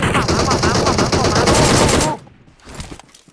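Rapid automatic gunfire from the PUBG Mobile battle royale game, loud and continuous for about two seconds, then cut off abruptly, followed by quieter game sounds and faint shouting.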